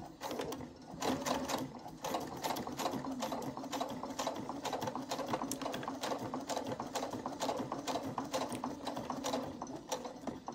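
A sewing machine stitching a fabric wallet runs steadily for about ten seconds, its rapid even mechanical chatter close and continuous with no talking.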